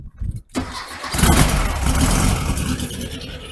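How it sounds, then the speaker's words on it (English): A 1974 VW Beetle engine cranks briefly, catches and fires up, then settles into a loud, steady running rumble close by. "Fired right up."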